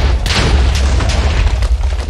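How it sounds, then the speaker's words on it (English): TNT detonations in a video game, a dense roar of booming blasts and crumbling debris with several sharp bursts layered over a heavy low rumble, loud and close. "See, now this TNT will fall down and destroy this stuff."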